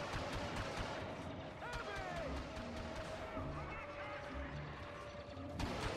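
Star Wars Battlefront 2 video game gunfire crackles in quick bursts amid a battle, sharp repeated shots over a rumbling background with a voice talking over it.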